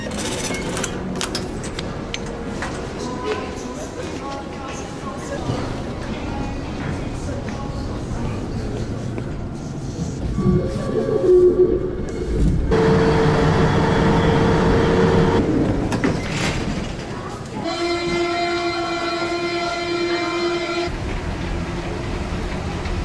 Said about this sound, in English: they do have a metro in Toulouse that you can take, so we're gonna take it for the first time